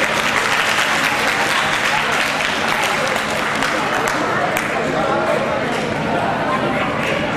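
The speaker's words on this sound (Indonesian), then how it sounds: "Tepuk lagi untuk Turn Everything with Lionel" Continuous, loud audience applause for Turn Everything with Lionel at an Indonesian-language event, a dense unbroken wash of clapping lasting throughout.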